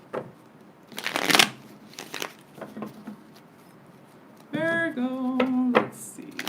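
A deck of tarot cards gets a few rapid riffling shuffles, loudest at the start, before a brief hummed or voiced tone follows toward the end.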